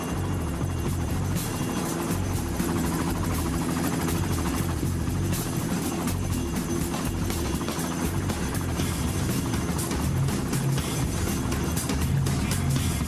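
A helicopter holds a hover about 4.5 metres above construction workers wrestling a concrete mixer, its rotor and engine roar loud and unbroken throughout.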